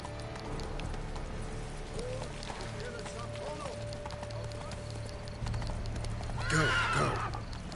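In The Witcher 3, a horse gallops with a steady clip-clop of hooves, and a loud whinny breaks in near the end over a low game background.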